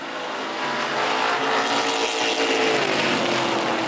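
Race cars at full throttle on a track, a loud, dense engine roar with a sustained whine that shifts pitch as the cars battle side by side, continuous and close with no talk.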